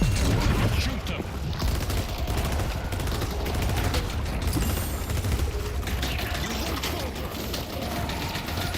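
Rapid gunfire in a video game, dense bursts of shots and clattering mechanical weapon sounds running continuously, loud and close, with a voice speaking at times over the action.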